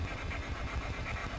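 A 160-cylinder engine fitted to a car runs with a steady, low, rumbling drone, held at an even, fairly quiet level throughout with no voices over it.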